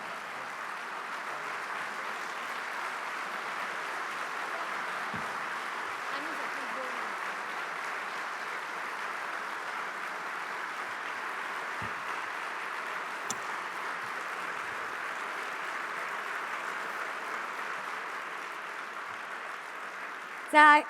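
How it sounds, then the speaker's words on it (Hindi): An audience at a JITO Dubai 2024 event keeps applauding after a speech. The clapping is a dense, even wash that holds steady for about twenty seconds, with no one speaking over it. "मुझे नहीं लगता ये तालियां रुकने वाली हैं आपके लिए।"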